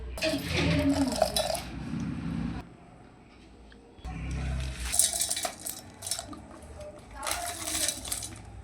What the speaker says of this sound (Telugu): ఇలా వేసుకున్న డ్రై ఫ్రూట్స్ని మిక్సీలో వేసుకోవాలి